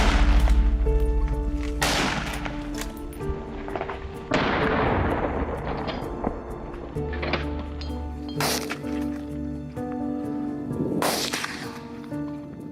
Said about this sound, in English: I swiftly pulled the trigger, firing a shot at the one on the edge